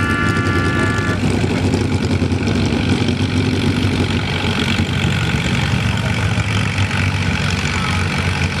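An Alabama style WC tractor idles loudly and close at a tractor pull, its low, rough rumble running steadily throughout amid open-air crowd noise.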